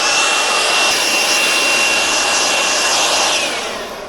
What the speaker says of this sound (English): Blower.